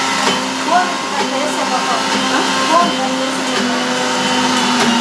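A mixie grinder runs in a home kitchen, grinding rice batter for vadas with a continuous close, loud motor whine and whirring that holds steady throughout.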